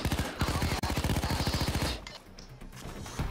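A shotgun firing slugs in Payday 2 lets off a long, loud burst of rapid, evenly spaced shots. The firing stops partway through, leaving quieter game noise.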